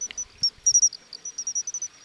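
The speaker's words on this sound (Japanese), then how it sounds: "それでは虫の声スタート。" Crickets and other insects chirp on an autumn night in a rapid series of short, high, bright pulses with small gaps between them. A few soft low taps sound near the start.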